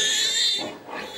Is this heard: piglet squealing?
yes